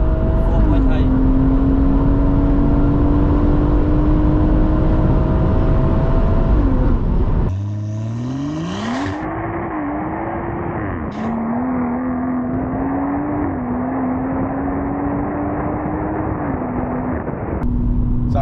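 A Stage 2+ BMW M140i with a turbo accelerating hard from a standstill, engine droning and rising through the gears inside the cabin, loud and continuous with a shift partway through, and voices talking over it.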